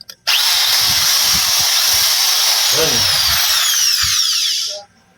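A power tool motor spins up after new carbon brushes are fitted on both sides, running loud and steady for about four seconds before winding down, with faint low knocking beneath the whine.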